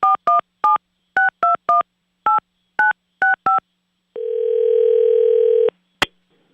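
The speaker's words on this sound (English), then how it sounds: "Let's see if we Okay. can get them to answer their phone." A phone dials out to call a radio contest winner: eleven crisp touch-tone beeps in an uneven rhythm, then a steady ringback tone lasting about a second and a half, ending in a sharp click.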